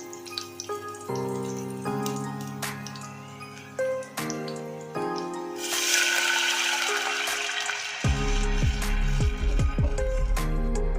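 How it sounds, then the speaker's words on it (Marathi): Water poured into a hot pan of oil with curry leaves while making rava medu vada, a brief splash followed by steady sizzling and bubbling, close and fairly loud, with no talk. "त्याच्यामध्ये मग एक भर पाणी ओतायचं"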